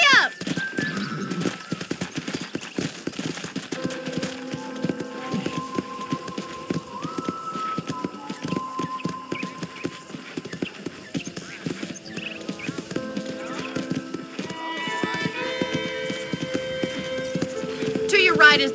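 Horse hooves clip-clop steadily on a ranch in the Red Dead Redemption video game, a continuous rhythmic trot heard under a voice and low background music.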